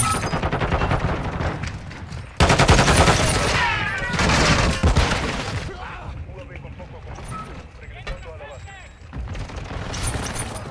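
Bursts of rapid gunfire in Call of Duty: Modern Warfare crackle and boom in quick volleys, with a voice talking over the shooting.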